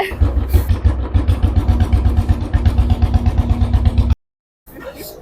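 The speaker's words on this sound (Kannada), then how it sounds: "ರಾಯಲ್ ಎನ್ಫೀಲ್ಡ್ ಅಲ್ಲಿ, ಆ ಸೌಂಡು, ಆ ಮಾಸ್ ತರ ಇರುತ್ತೆ" A Royal Enfield motorcycle engine thumps with a strong, pulsing beat, revving in loud bursts close by before cutting out abruptly, with faint voices in the background.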